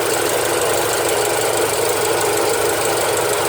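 A car engine with a faulty idle air control valve runs loud and steady, a dense rough mechanical roar with a knocking texture that holds without clear rise or fall throughout.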